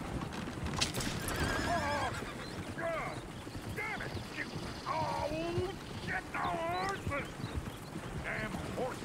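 Horse whinnies and neighs repeat several times over steady clip-clop of hooves in the Red Dead Redemption 2 video game, set against a busy, noisy background.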